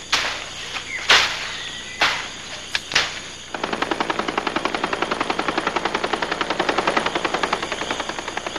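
Helicopter rotor chop in the Peruvian jungle starts after a few sharp bangs and settles into a steady, rapid thumping beat that continues for several seconds at moderate loudness.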